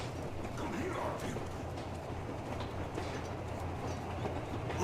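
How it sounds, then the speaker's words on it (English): Train rolling along rails in the video game Metro Exodus, a steady low rumble with faint clatter running continuously throughout at a constant level. "What's Spike Spiegel doing on the train"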